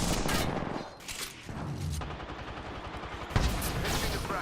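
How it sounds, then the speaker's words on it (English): Smart bullet weapon fire in a video game comes as loud, dense volleys of rapid shots, pausing briefly around the one-second mark and then resuming with sharp bursts, with no voices over it. "Smart bullet firing"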